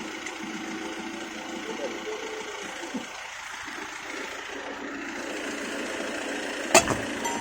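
Low rumble of idling car engines in traffic, steady and moderately close, with voices murmuring over it and a brief knock near the end.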